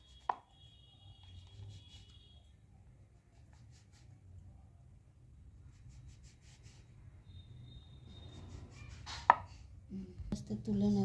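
Rolled dough being cut into small even pieces with a knife for papri chaat, faint scattered taps and scrapes over a low background hum, with a sharper knock near the end.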